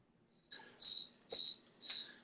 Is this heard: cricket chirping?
yes